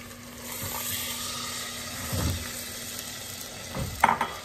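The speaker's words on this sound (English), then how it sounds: "Then we're going to throw water." Water is poured into a hot pot of lamb meatballs and potatoes, bringing up a steady sizzle with a few louder splashy bursts and a light clink of cookware near the end, close and fairly quiet.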